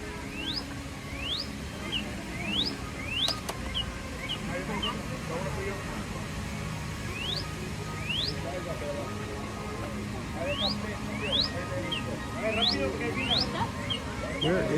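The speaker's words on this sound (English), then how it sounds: "Owen's trying to find the bird that's making those pretty songs over here behind me." A songbird sings repeated rising, whistled phrases in the garden setting of Epcot's Flower and Garden Festival, the calls arriving in bursts over a soft background murmur of crowd and ambient noise.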